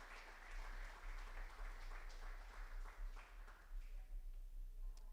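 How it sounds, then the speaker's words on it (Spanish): Worshippers in a church clap for God during a sermon, a faint, continuous patter of many hands that fades somewhat near the end, with a low hum running beneath. "Vamos a darle palmas a nuestro buen Dios, por favor"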